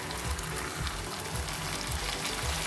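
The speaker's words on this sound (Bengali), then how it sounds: "এবার ম্যারিনেট করে রাখা মাছটা আমি এর মধ্যে আস্তে আস্তে ছেড়ে দেবো" Marinated fish slides into a pan of fried onions, setting off a loud, steady sizzle of hot oil that fills the whole moment without any voices.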